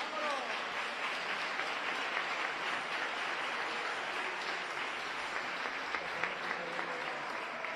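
A large crowd at the 2023 Romería of the Virgen de la Cabeza claps for the Virgin, a dense, sustained wash of applause that holds steady and alone throughout.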